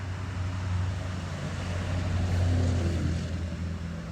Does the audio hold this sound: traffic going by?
yes